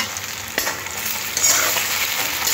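Chopped tomatoes with salt and a pinch of sugar frying in a pan for Bengali chicken curry, a close, steady sizzle with a few sharper stirring scrapes.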